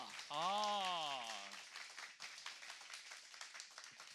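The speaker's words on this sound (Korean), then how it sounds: "여러분 다시 한번 큰 박수로 맞이해 주시죠." Studio audience applause welcoming a guest on a Korean talk show, a thin patter of clapping beneath a voice that opens with a drawn-out sung or shouted call, continuing softly afterward.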